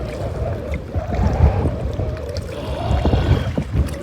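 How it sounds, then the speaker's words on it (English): Wind gusting while kayaking on the Mississippi River, a steady low rushing roar with surging swells, mixed with faint water lapping against the boat; no talking. "And here comes the wind again."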